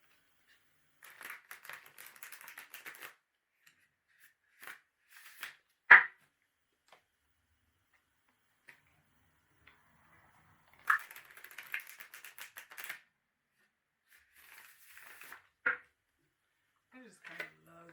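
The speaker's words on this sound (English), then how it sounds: "I just kind of love the way these shuffle." Tarot cards are shuffled by hand in two bursts of quick crisp riffling and flicking, close and soft, separated by quiet pauses with a few isolated taps.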